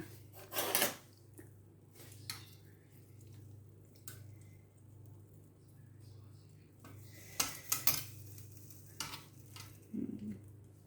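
Cooked salmon is served onto a plate in a home kitchen: scattered utensil scrapes and light clinks against cookware and plate, quiet and intermittent, with a faint sizzle in the background and no talk.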